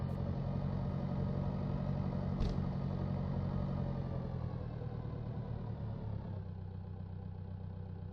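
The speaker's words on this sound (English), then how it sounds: "let's get in our tractor. Attach the trailer." Tractor in the Pure Farming 2018 farming game rumbles steadily at a low, even idle while reversing toward a trailer, the engine drone continuous with a single brief click partway through.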